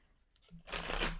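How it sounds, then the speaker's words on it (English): A deck of tarot cards riffles in a quick, close flutter of papery slaps lasting under a second. "mix the cards, to shuffle them very well"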